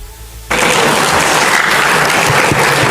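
Loud, dense applause from an audience at a public talk starts suddenly after a quieter moment and then holds as a sustained, even roar of many hands with no voices above it.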